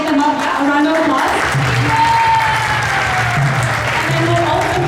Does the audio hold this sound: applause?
yes